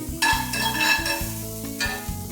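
Crushed ginger, garlic and chili frying in a little oil in a cast iron pan, stirred in a few quick scraping strokes over a close, steady sizzle.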